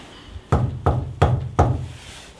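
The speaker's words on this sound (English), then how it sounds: "If I knock, could you copy me?" Four sharp knocks on a solid surface inside an abandoned, reputedly haunted building, struck at a steady pace about a third of a second apart, each loud and close with a short ringing tail.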